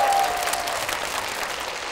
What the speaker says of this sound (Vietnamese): Một tràng vỗ tay thật lớn, thưa quý vị.